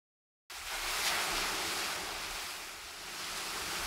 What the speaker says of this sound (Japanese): 待ちに待った海なのだ。